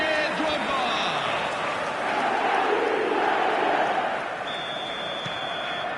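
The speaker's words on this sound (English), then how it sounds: "the roof's just about stayed on, but the crowd level has gone up a notch or 10" A stadium crowd roars in the eFootball video game right after a headed goal, a dense, sustained wall of cheering that swells and then eases slightly, with a voice talking over it.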